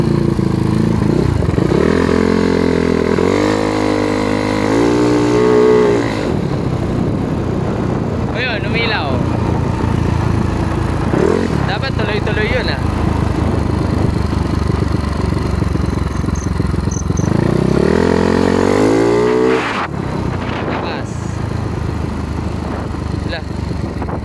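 A Yamaha Mio Sporty scooter engine, converted to fuel injection with a non-stock throttle body, idles loudly nearby and revs up twice in rising, falling sweeps, with a voice talking over it.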